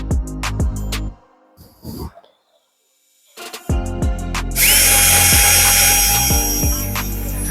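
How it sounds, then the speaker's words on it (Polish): A Bosch cordless drill-driver whirs in repeated bursts with clear pitch ramps as it speeds up and slows. A short quiet gap comes before a louder, sustained stretch of drilling with bright, gritty noise, heard up close. "Wiercimy."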